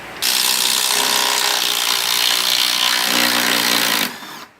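A ratchet or power tool spins off the 13mm top strut bolts on a 2005 Ford Taurus, giving one loud, steady mechanical whir close by that cuts off abruptly near the end.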